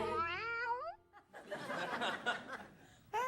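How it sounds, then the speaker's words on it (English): Cat on a late-night TV talk show set, giving a rising drawn-out meow followed by studio audience laughter and chatter, then another brief meow-like cry at the end. "It's the first time in a long time it's meowed."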